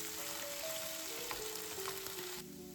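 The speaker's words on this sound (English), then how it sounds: "And fry the potatoes." Potatoes frying in oil in a pan, a steady close sizzle and fine crackling that runs without pause, quieting slightly at the end.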